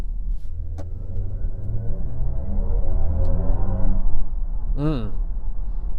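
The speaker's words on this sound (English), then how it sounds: "I just wanted to cover the BMW sounds that they make." A BMW i5 Touring electric car's synthetic, hovering drive hum swells with a steady rising and falling tone under low rumble, followed by a brief warbling sweep; no speech.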